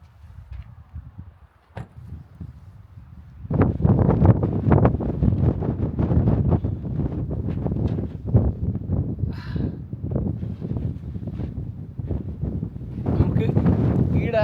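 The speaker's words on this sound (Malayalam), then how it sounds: "നല്ല കാറ്റടിക്കുന്നുണ്ട്" Strong wind buffets the microphone in loud, rough gusts on the way to Siachen Glacier in Ladakh, with a brief calmer stretch at the start before the blowing builds and stays heavy.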